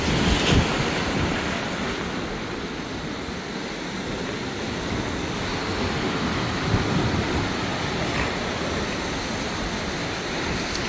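A south wind blows across a river, giving a steady broadband rush of wind noise buffeting the microphone, continuous and loud from start to finish with no voices.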